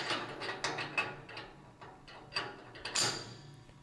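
Lathe tailstock being slid along and clamped to the bed, a run of quiet metallic clicks and ratcheting knocks at an irregular rhythm, close and faint.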